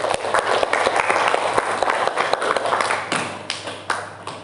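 Classroom audience clapping during a teacher-training session in Indonesia, a dense patter of many hands held steady for several seconds before thinning out near the end.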